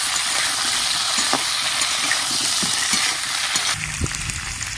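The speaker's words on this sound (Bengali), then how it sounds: "সব সবজিগুলো একটু লাল করে ভেজে নেব।" Chopped vegetables with green chillies frying in a pan for a hilsa fish head dish, a steady loud sizzle with occasional stirring clinks and scrapes.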